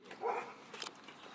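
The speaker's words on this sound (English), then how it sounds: "That's a dog." A single dog barks once at a distance during an outdoor evening outing, a short faint bark followed by a quieter yip against a low background hush.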